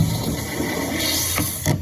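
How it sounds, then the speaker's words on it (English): Water surging briefly from a car wash water line, a steady loud rushing hiss that holds for a moment and then cuts off abruptly at the end, close up with no speech. "Some water comes up, cuts right back off"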